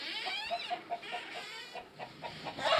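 Chickens cluck in short, evenly spaced bursts, a soft rhythmic series close by, with a louder squawk at the end.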